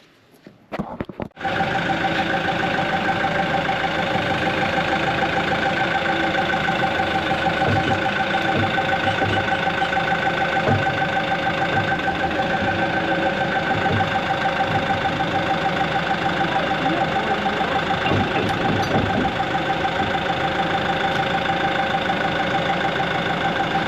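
A heavy machine's engine starts and settles into a loud, steady, close idle with an uneven, missing beat running through it.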